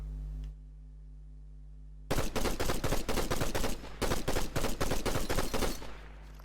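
Rapid bursts of assault rifle fire in Fortnite, two long strings of evenly spaced shots split by a short pause, loud and close after a quiet start with no talking.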